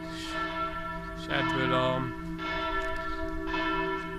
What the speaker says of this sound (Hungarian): templomból szól a harang